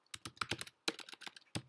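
Quick bursts of keystrokes on a computer keyboard, close and crisp, in two short flurries separated by a brief pause and a final tap, with no talk.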